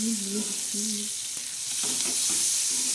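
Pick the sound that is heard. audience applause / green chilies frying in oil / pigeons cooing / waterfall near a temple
green chilies frying in oil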